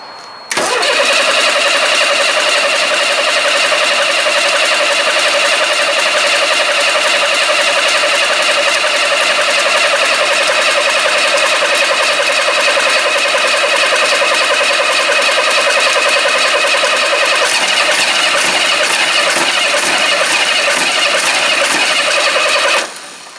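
An engine in a car or machine, primed and fueled with 20 litres, cranks and churns for over twenty seconds in a loud, steady, uninterrupted drone, then abruptly stops, with no voices.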